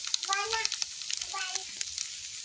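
Ground coriander and cumin frying in a pan, a soft crackling sizzle with scraping as they are stirred, while someone talks over it.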